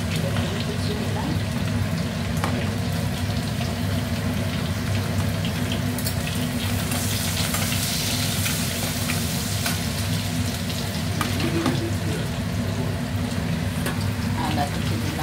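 Chopped garlic and ginger sizzle in hot oil left over from frying prawns, a dense, steady crackle and spitting that carries on without pause, close up, under a quiet background hum.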